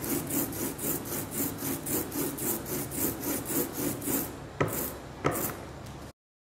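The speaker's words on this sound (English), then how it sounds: "It should sound like Velcro ripping." Ink roller worked back and forth over inked printing foam, giving a crackly, Velcro-like rasp: a quick, regular run of rubbing strokes, then two sharper tacky pulls. Faint and close, with no voices.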